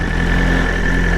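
A BMW S1000RR sport motorcycle engine idles close by, a steady loud rumble with a constant tone and no break.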